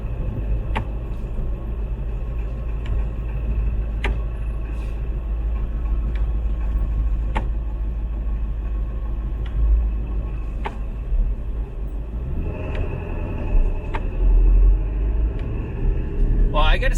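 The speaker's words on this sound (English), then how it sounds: "we got a big truck behind us here. Engine's pretty loud." Deep low rumble of a big truck's engine running close behind a car driving along Eglinton Avenue East in Toronto, steady throughout and swelling louder near the end, with occasional clicks and a voice talking over it.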